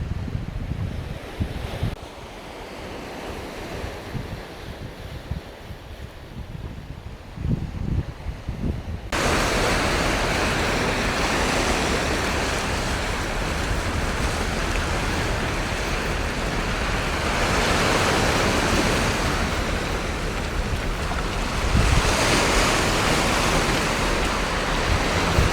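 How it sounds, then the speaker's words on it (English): Ocean waves roll and break in a steady loud wash on Crete, Greece, in February, swelling and easing, with wind rumble underneath and no voices. "just listening to the sound of waves"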